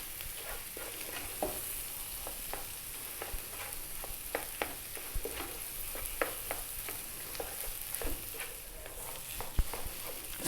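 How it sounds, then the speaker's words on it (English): Mashed potato mixed with onion and spices in a pan, a low background sizzle under repeated irregular stirring scrapes and taps of a utensil. "Two minutes, just mix all of that onion in there and the spices."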